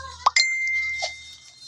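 A single bright notification bell ding strikes, then a clear ringing tone sustains and slowly fades out, alone with no talk.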